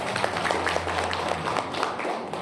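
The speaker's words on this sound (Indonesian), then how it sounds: "beri tepuk tangan ya Bapak Pujo" Scattered applause from an audience at an Indonesian community talk on drug trafficking, with light, uneven claps over a steady low hum at moderate volume.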